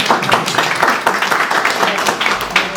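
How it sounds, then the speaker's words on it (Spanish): Applause at a forum on the environment, a fairly small group clapping in brisk, uneven bursts that fill the short stretch, close and moderately loud. "démosles un aplauso"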